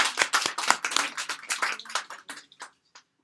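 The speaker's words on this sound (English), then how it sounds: "Give her a big clap." A class claps for a student's homework, a burst of quick, close, irregular hand claps that thins out and trails off into a few scattered last claps before silence.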